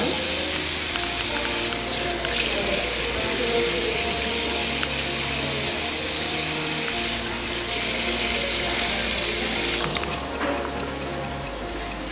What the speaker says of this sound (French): Nous allons procéder au rinçage, à l'émulsion.